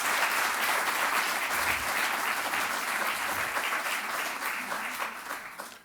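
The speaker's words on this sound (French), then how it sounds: "Je vous applaudis." Audience applause for the artist Charles Ray: a dense, sustained wave of clapping from a large crowd, steady and loud throughout before easing slightly at the end.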